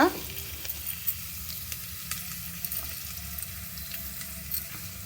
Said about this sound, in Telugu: ఈ ఉల్లిపాయలు కూడా బాగా ఏగాలన్నమాట.